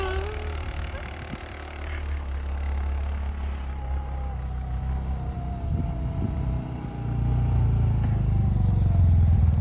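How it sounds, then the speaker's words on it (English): A side-by-side UTV spins sideways in snow, its engine droning loudly and rising in revs toward the end, with wind buffeting the microphone. "The side by side was spinning sideways"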